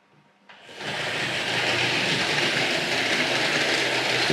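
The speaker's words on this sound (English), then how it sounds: "Let's give that a little more power now." A Hornby Dublo model train gathers power and runs along its track, a steady rushing whir with faint rail clatter that rises after a quiet start and holds at an even level, fairly close, with no talk.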